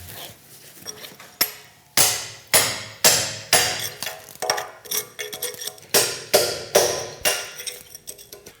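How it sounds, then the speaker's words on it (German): Chisel hammered against a rusty, dirt-encrusted historic lantern during restoration, a series of sharp metallic knocks in an uneven rhythm, loud and close, with no talking. "mit einem Meißel diese ganzen Korrosionsprodukte, den Rost und den Dreck, der da alles zwischen ist, erstmal hier rausschlagen"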